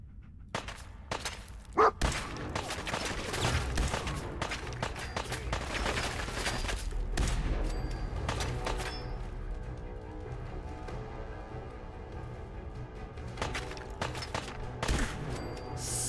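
Gunfire in Fallout 4, a dense run of sharp game shots and impacts packed across the stretch, some bursts close together, loud and continuous, with faint talk mixed in.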